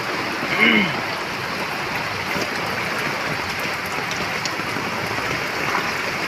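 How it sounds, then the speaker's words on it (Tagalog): Heavy typhoon rain pours steadily with floodwater rushing beneath it in Valenzuela, Philippines, a constant dense wash, and a brief voice sound near the start. "grabing baha dito"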